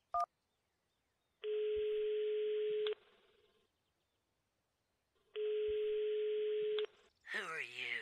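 A telephone busy signal in a point-and-click adventure game after a call is hung up: a short tone blip, then two long steady buzzing beeps separated by silence, followed by a voice starting to speak.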